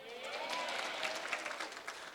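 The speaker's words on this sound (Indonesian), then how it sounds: "Tepuk tangan dong." Parents at a school gathering give a short burst of applause, fairly soft and somewhat distant, with a few voices mingling in the crowd.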